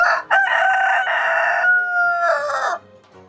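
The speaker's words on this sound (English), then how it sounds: "climb up that great big rooftop, crawl out to the edge of the roof, and then crow as loud as he can." A rooster crows loudly and close up, a single long, strained cock-a-doodle-doo that breaks once early, holds a sustained note, then ends in a final rising flourish and falls silent.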